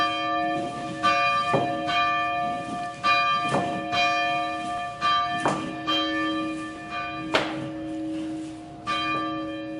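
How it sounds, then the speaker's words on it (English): A church bell rings in slow, steady strikes about a second apart, each clang leaving a rich, humming tone that overlaps the next. "We still have a bell. We still ring it every Sunday morning at 11 o'clock."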